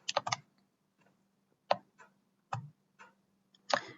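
Someone typing on a computer keyboard: short bursts of crisp key clicks separated by pauses, close and fairly quiet in an otherwise silent room.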